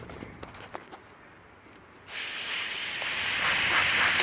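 Spray hissing onto a Harley-Davidson Shovelhead primary seal while the case is under pressure. A few faint taps come first, then a loud, steady hiss starts halfway through and keeps going.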